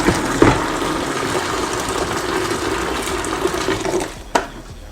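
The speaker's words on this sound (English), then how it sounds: "I'm going to pour this hot water into these buckets." Hot water poured into buckets during a home hair-colouring session, a steady splashing, rushing fill that runs for several seconds at close range, with a brief clatter near the start and a knock toward the end.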